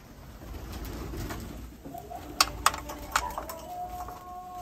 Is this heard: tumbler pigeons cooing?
yes